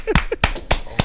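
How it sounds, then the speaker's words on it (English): A few sharp, close claps ring out in a quick irregular burst of about five strikes, with a brief voice in between. "Hey, give him a clap."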